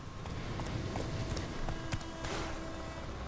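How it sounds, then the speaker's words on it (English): Horse hooves clip-clop in The Witcher 3: Wild Hunt, a steady series of light taps over a constant background game soundscape of ambient noise. "Come to me, horse. Come to me."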